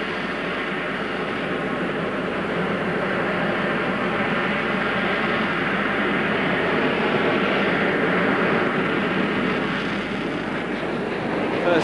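An RAF Harrier GR7 jet hovers at the Farnborough Airshow with a steady, loud, broadband engine roar that holds without a break from start to finish.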